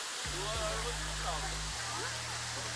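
A waterfall at a scenic spot in Sinop gives off a steady broadband rush of falling water, with someone talking over the roar.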